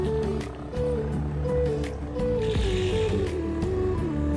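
A motorcycle on a road trip to Nuwakot, Nepal, its engine a close, steady, loud rumble that shifts pitch in stepped surges as the throttle changes, with no talk.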